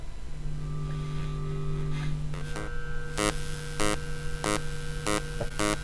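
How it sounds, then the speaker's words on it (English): Picked up by an electromagnetic field pickup near a computer hard drive, sharp regular clicks tick through a steady electrical hum and buzz, about one every half second, loud and close. "So that ticking sound is obviously the internal clock of the hard drive."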